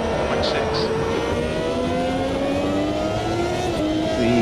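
A 1993 Formula One car engine in the racing game Automobilista 2 revs and climbs in pitch under steady acceleration, loud and close, with a voice talking over it.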